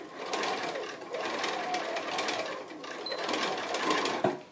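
A sewing machine stitches across a tube made from 2 1/2 inch fabric strips, running with a steady close whirring and rapid needle clatter, ending in a short thump.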